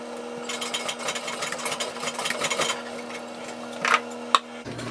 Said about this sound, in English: Also give it a little stitchity stitch back here.